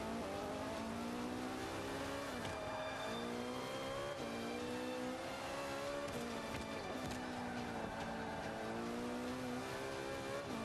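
A McLaren P1 race car in the Forza Motorsport 5 driving game revs and accelerates through repeated gear shifts, its engine whine rising and dropping again and again at a steady moderate level.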